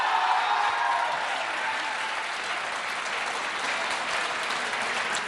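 A studio audience at a televised Hindi debate show applauds with steady, dense, loud clapping that runs unbroken for the whole stretch and is heard alone, without talk.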